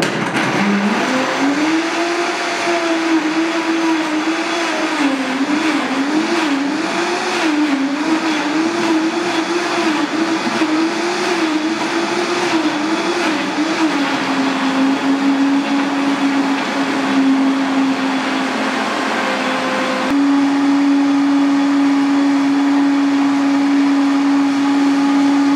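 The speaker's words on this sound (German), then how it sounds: "Na dann, einmal rauf auf den Mixer." Countertop blender whirring through mushroom soup, a steady loud motor drone that wavers as the contents churn, then settles into a higher, steadier whine near the end, with no talking.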